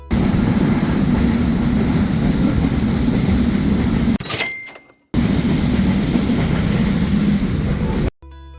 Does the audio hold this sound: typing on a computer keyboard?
no